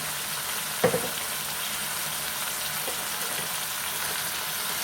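Brinjal and tomato curry with salt and chilli sizzling steadily in a pan, a brief scrape of stirring near the start, then an even, continuous frying hiss.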